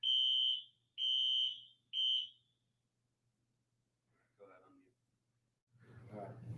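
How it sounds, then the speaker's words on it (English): A building fire alarm test: three loud, piercing electronic beeps at a steady rhythm, then silence, followed by faint and then closer voices talking. "Fire alarm testing today."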